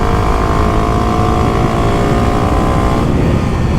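A 2023 Kawasaki KLX300SM motorcycle engine droning loud and close under load, its pitch dropping near the end as it downshifts.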